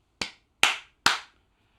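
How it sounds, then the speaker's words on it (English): Three sharp hand claps, evenly spaced and close, each cracking crisply then dying off quickly, with silence in between. "just before you start recording your main content, you want to give a couple claps."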